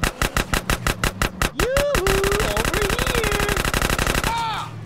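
Rapid evenly spaced gunshots in GTA San Andreas, a loud rhythmic burst that continues into a faster stream while a vehicle engine whines and revs underneath.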